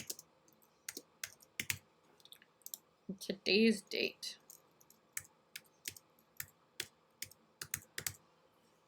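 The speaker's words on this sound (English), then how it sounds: "typing my name in the box" Quick, irregular computer keyboard clicks tap out a name into an online registration form, with a brief spoken phrase partway through breaking the rhythm.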